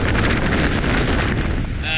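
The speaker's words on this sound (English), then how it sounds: "As you can see, it's really windy" Strong wind buffeting the microphone on a mountain hiking trail over Duck Pass near Mammoth Lakes, a loud continuous roaring rumble with no let-up.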